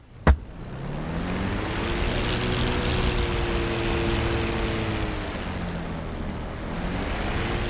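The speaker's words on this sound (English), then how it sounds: "I guess I'll start taxing to the nearest runway I see." An airplane taxiing in a flight simulator video game, a steady engine drone with a sharp click at the start, holding a constant level throughout without talk.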